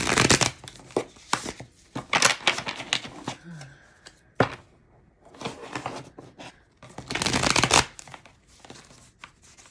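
A deck of tarot cards is shuffled close by in several irregular bursts of riffling and snapping, separated by short pauses, with faint background sounds between them.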